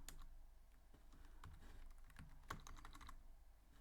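Code is typed on a computer keyboard to build a snake game in Python, a steady run of soft, quick keystrokes with one sharper tap near the end, close and alone with no talk.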